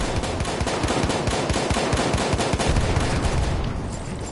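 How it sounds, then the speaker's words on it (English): Suppressed gunfire in the video game Battlefield 1: a dense, rapid stream of loud shots without pause, close and continuous throughout. "Suppressor fire going in."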